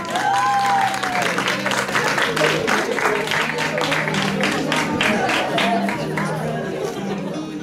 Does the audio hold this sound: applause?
yes